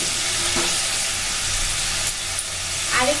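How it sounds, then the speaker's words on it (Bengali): Hot water poured into a pan of sizzling vegetarian fried rice made from raw rice, producing a steady loud hiss and frying crackle throughout with faint clinks of stirring. "আমি এখানে গরম জল দিয়েছি"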